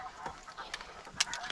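Canada geese honk in a few short, scattered calls during a goose hunt in Alberta, faint and somewhat distant against wind noise.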